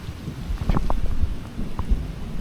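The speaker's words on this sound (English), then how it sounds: "It started pouring down, raining, yet I continued to keep going." Heavy rain pours steadily in McGehee, Arkansas, with low rumbling thunder and wind gusts beneath it, a dense, continuous wash of storm noise.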